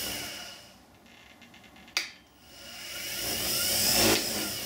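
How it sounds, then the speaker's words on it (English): An Axminster Precision Pro pen lathe soft-starts after a sharp click, its motor whine rising gradually and growing louder over several seconds as it accelerates. "As you can hear there, it's a soft start, so it gradually accelerates."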